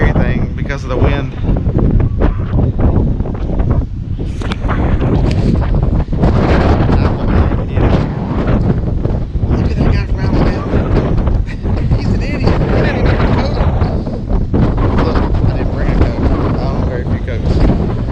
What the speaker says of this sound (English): Not that y'all can probably hear anything because of the wind.